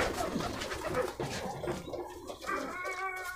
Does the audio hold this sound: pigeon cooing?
yes